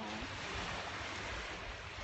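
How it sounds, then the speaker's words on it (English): Waves lapping steadily on the shore of the Sea of Galilee in Israel, a continuous soft wash of water with some wind noise, fairly faint and unbroken, with no voices. "So this is the Sea of Galilee."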